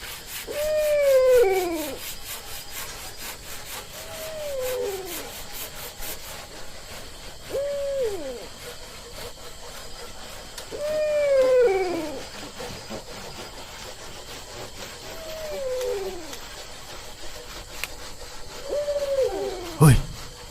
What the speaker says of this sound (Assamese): ফেঁচা